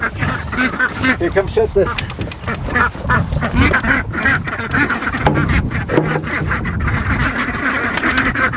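Homestead ducks quacking loudly and close, a dense flock chattering in rapid overlapping calls throughout, with people talking over them.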